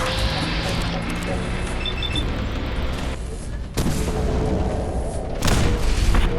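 An arcing energy weapon fires in Fallout 4, sharp booming blasts with crackling bursts layered over game noise and a person talking.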